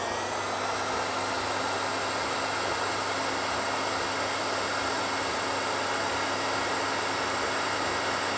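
A dryer blows steadily to dry a piece of work before sodium silicate goes on, a constant close whooshing hiss with a faint motor hum, unbroken for the whole stretch.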